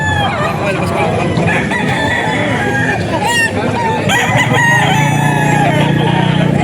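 Several chickens cluck and a rooster crows nearby at a poultry seller's in Bocaue, overlapping calls in a busy yard, with a voice briefly talking in Filipino among them.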